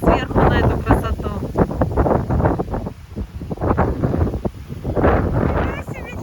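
Gusty storm wind sweeps the seafront in Vladivostok, a constant low roar with buffeting bursts against the microphone, heard beneath steady nearby talking.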